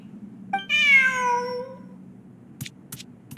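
A cat meows once in the game Genshin Impact, a clear drawn-out falling meow up close over a soft background hum, followed by a few faint clicks.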